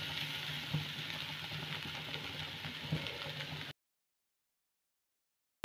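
Pieces of rohu fish fry in a spice masala, giving a close, steady sizzle with a few soft stirring clunks before the sound cuts to silence.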